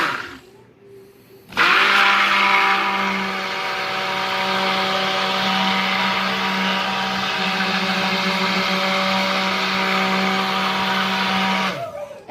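A blender whirs loudly and steadily as it mixes soap batter toward trace, starting abruptly and running for about ten seconds before stopping, close and alone.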